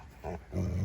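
A dog in a garden makes short low grunting, snuffling sounds close by, two brief bursts within under a second.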